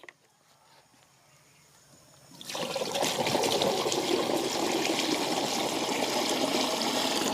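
Water gushes into a 15-litre sprayer pump tank holding a measured crop-protection dose. After a couple of seconds of near quiet, a loud, steady rushing pour starts abruptly and continues to the end.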